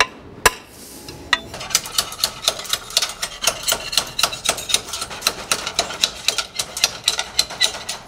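A roofing slate is pierced by hand, giving a rapid series of sharp, close tapping clicks in a steady rhythm after one louder initial knock, with no talk.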